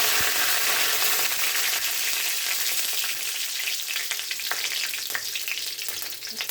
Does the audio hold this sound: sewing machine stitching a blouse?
no